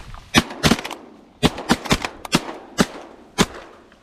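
Shotguns fire during a gadwall duck hunt in a saltwater marsh: about nine sharp, loud blasts come in irregular bursts, some close together, with quiet gaps between them.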